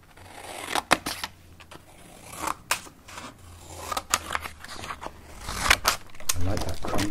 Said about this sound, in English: I'm taking a pair of scissors very carefully. I'm going to cut small lines across one side of the card.